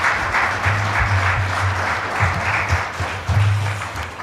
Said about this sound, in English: if we can have a really, really big round of applause